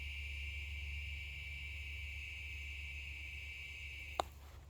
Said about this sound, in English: is the sound of cicadas